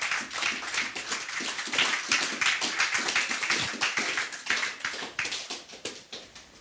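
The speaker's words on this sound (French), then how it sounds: "Est-ce qu'on peut acclamer encore pour lui?" A church congregation applauds for several seconds, dense and steady clapping from many hands with no voices over it.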